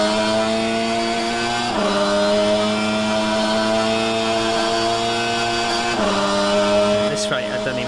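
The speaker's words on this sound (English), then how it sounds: "I feel the engine sound deserves to be heard" Super GT500 race car at Suzuka in a racing video game, a sustained high engine drone holding steady pitch, dropping sharply at two gear shifts, loud and continuous with no talking.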